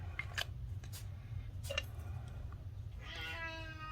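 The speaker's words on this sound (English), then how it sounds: "That's my cat, in case you heard that meow just now." A domestic cat meows a few times close by, short high cries with faint rustling and brief clicks in a quiet room, then a longer drawn-out meow near the end.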